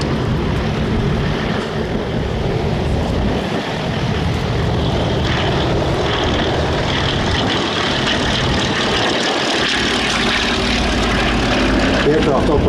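At an airshow, a vintage propeller-driven fighter aircraft roars past, a loud sustained broadband engine drone that holds for the whole stretch with slight swells.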